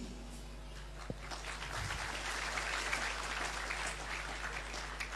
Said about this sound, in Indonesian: jangan tepuk tangan, men